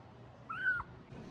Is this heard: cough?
no